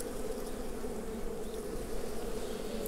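Honeybees buzz continuously and densely around an open hive during an inspection, a steady, close droning hum with no pauses.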